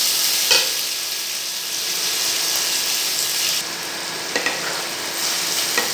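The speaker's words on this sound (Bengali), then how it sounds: "পেঁয়াজটাকে ভাজতে হবে।" Chopped onion frying in a pan with garam masala and chilli for Bengali chingri kalia produces a loud, steady sizzling hiss with a few stirring knocks, close and without speech.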